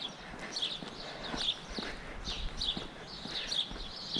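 Horses in a stable yard, hooves clip-clopping in an irregular walking rhythm at moderate distance over a low background hum.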